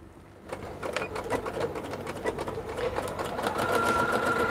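Sewing machine running a quarter-inch seam around a small coin purse, a steady fast mechanical chatter of stitching that holds close and fairly loud, with no talking.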